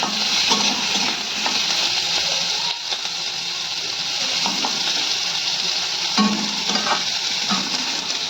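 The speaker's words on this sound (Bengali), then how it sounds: "ক্যাপসিকামটা আমি লাল লাল করে ভাজবো।" Capsicum fries with onion in hot oil in a pan, a steady bright sizzle throughout with occasional stirring scrapes, close and loud, no talk.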